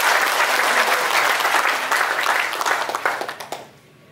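A crowd of audience members claps hands loudly and densely, then the applause thins into scattered claps and dies away at the end.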